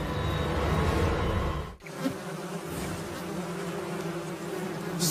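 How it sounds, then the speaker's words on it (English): Swarm of carnivorous rainforest wasps in flight, a loud continuous buzzing drone of many wings close by, briefly cut then resuming steadily. "Squadrons of carnivorous rainforest wasps take to the air."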